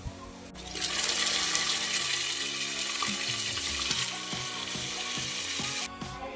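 Mutton hits a pan of browned onions for a Nepali-style curry, bursting into a loud, steady sizzle that holds for several seconds alongside light clinks of a stirring utensil.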